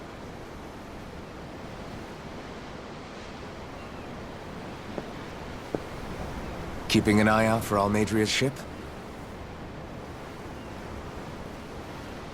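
Steady ocean surf and open-sea wash roll on in Tales of Arise, a constant broad hiss under the scene, with a short burst of speech breaking in partway through.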